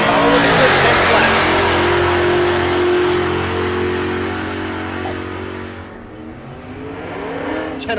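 A drag race at Tulsa Raceway Park with a Pontiac Ventura at full throttle, a loud, sustained engine roar that holds steady and then fades slightly as the car pulls away before rising again near the end.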